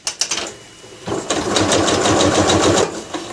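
A sewing machine stitches a drawstring bag in a short steady burst of rapid mechanical chatter, preceded by a few brief clicks and quieter handling noises, close and loud.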